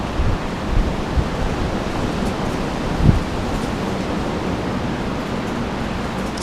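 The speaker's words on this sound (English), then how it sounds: "Sorry it's so windy." Strong wind gusts buffet the microphone outdoors in the dark, a steady broadband roar with a sharper thump near the middle and no talk over it.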